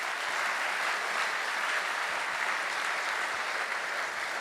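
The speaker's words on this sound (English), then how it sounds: "Give a warm applause for Martine van Velen." A hall audience applauds a speaker invited to the stage at a lecture event, producing a dense, even wash of clapping that holds at a steady, fairly loud level throughout with no talking.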